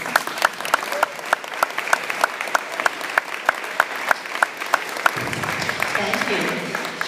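Applause for the band director at a band league event, a crowd clapping steadily with sharp rhythmic claps standing out, fading into a softer roomy murmur near the end.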